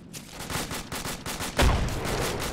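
Distant gunfire from an opposing team rings out in a rapid string of sharp reports, with one heavier, closer boom near the middle and no talk over it.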